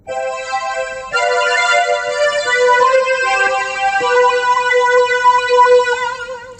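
Sustained Casio CTK-6000 keyboard chords through phaser and reverb, with a slowly sweeping, swirling tone and a lingering, spacious tail; bright and clear, no voices.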